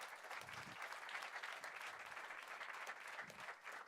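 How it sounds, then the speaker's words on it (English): An audience at the Oslo Freedom Forum conference claps in sustained, even applause that stays at a steady level for several seconds without cheering. "Let's give Adia another round of applause."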